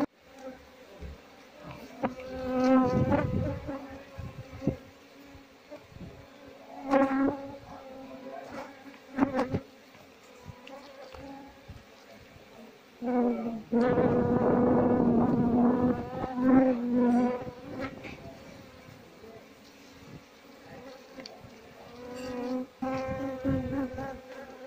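Apis cerana honey bees swarm and drone around a nest during colony transfer, a dense continuous buzzing that swells and fades with louder close passes, with no talking.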